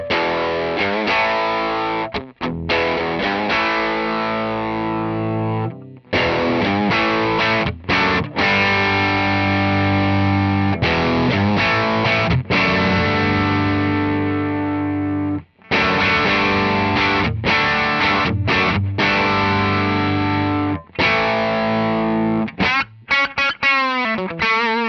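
An electric guitar plays sustained, overdriven chords and riffs through a Wampler ReWired Brent Mason signature drive pedal, loud and continuous with brief gaps, thick saturated tone, no voices.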